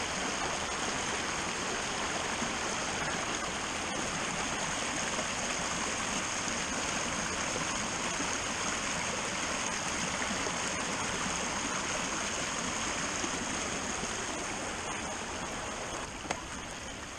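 A stream of rainwater on a rainy day rushes steadily and continuously, a soft, even, unbroken flow heard up close with no voices over it.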